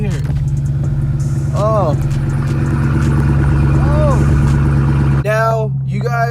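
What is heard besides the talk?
Chevrolet Camaro engine cold start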